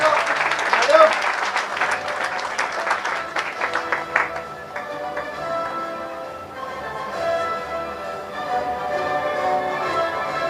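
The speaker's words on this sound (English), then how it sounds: "Can we hear a louder applause, please?" Audience applause at a formal book launch ceremony, dense clapping that is loud early on, then fades into a quieter stretch with sustained music-like tones and some voices underneath.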